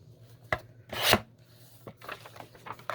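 Scissors or a blade trim the paper edge of a handmade journal, giving close, dry rasping cuts and rubs in a few irregular bursts, with one louder scrape near the start.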